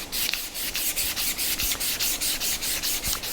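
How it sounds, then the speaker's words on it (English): A strip of 400 grit sandpaper rubs back and forth over a dirt bike handlebar in quick, even strokes, close and clear with a regular rhythmic rasp and no voices. "I just took a little strip of 400 grit sandpaper, and I'm just gonna come like this and clean it up a bit"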